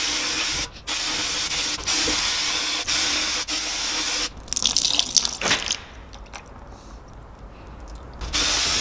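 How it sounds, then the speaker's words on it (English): Brake cleaner sprayed onto a BMW E36 limited-slip differential: a loud continuous aerosol hiss with brief pauses between bursts, ending in a rougher, more broken spray. "I'm going to use some brake cleaner to accelerate the process a little bit."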